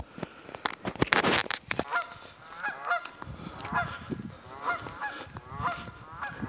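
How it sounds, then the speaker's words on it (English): Geese honk by a lake at sunrise, a loud cluster of calls early on followed by a steady run of repeated honks at moderate distance, with no talk. "There's the geese."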